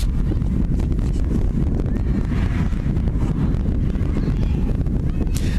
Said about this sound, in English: As you can hear, it's a little on the windy side.